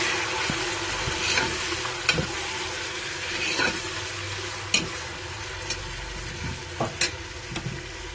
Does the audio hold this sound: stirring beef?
yes